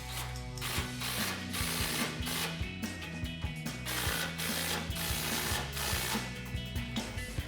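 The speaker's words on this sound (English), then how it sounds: "Now we can tighten this up using our 15mm socket." A ratchet with a 15mm socket tightens grille guard bolts on a 2021-2026 Ford Bronco, a fast, steady run of close clicking strokes repeating without pause.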